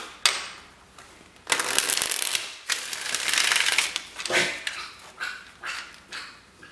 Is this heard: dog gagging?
yes